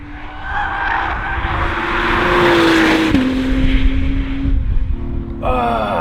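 A 2018 Acura NSX supercar passes with its engine note climbing and then dropping through a gear change, followed by tire squeal, loud and close with no talk.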